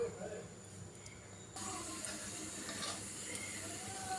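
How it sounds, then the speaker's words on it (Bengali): Rupchanda fish hit hot oil in a sunny home kitchen, setting off a sudden broad sizzle that holds steady and fairly loud, with faint talk in the background. "মাছগুলো এখন তেলে দিয়ে দিচ্ছি আমি"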